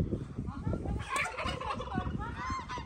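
Turkeys gobble in a village, with repeated rattling calls from a flock that rise and overlap over outdoor background noise, at moderate distance and fairly faint.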